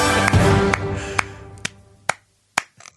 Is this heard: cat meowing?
no